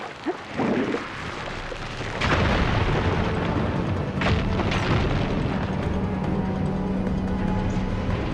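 A fire gleam igniting and exploding to clear rubble in Horizon Forbidden West, a heavy boom followed by a rumbling, crackling blast and lingering debris noise, with smaller bursts after, no speech.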